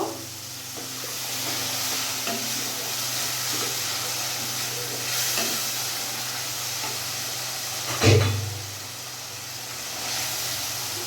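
Chicken dopiaza masala fries in a pan after a splash of water goes in, giving a steady loud sizzling hiss with one brief louder burst partway through.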